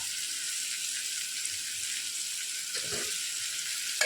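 Drumsticks and brinjal fry in hot oil, giving a steady, close sizzle that does not let up. A short stir or clatter breaks in near the end.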